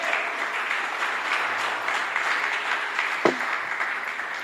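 A church congregation applauding in praise, a continuous moderate wash of clapping with one sharper clap standing out near the end.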